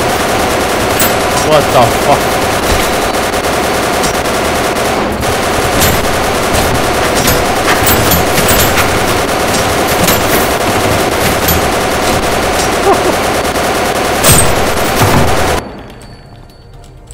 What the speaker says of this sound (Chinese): 从楼上来了一大堆幽灵，用机关枪吧。